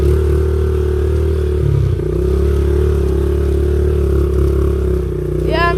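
A pit bike motorcycle runs along a dirt trail, its engine droning loud and steady close by, with clattering over rough ground and a brief pitch rise at the end.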